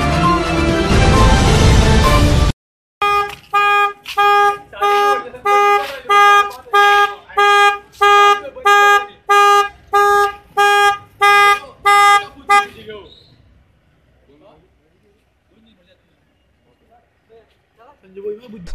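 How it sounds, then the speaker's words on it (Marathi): A parked car's horn honks on its own with nobody at the wheel, sounding about fifteen loud, evenly spaced toots in a steady rhythm, preceded by a burst of loud music and followed by near silence. "मग गाडीचे हॉर्न आणि लाईट आपोआप लागतंय का?"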